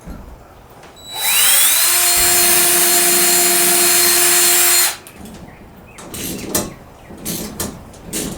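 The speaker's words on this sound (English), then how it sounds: "I'm going to pre-drill a pilot hole" A power drill bores a pilot hole into a wall during a DIY staging-wall build, whining loud and steady for about four seconds after a short spin-up, then cutting off to quieter handling noises and light knocks.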